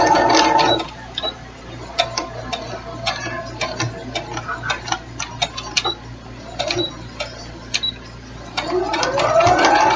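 A sewing machine stitches strips of jelly-roll quilt fabric in quick rhythmic ticking bursts that stop and start, close and fairly loud, with no talk.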